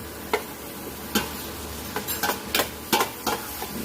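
Squid being stirred as it fries in a pan. A steady sizzle runs throughout, with sharp spoon scrapes at irregular intervals, some coming in quick pairs, close and clear.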